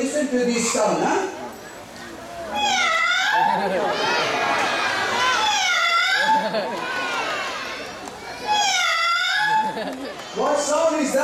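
At a safari park bird show, a bird imitates a puppy with repeated high, wavering yelps and whines in several bursts, heard over the steady chatter of an audience.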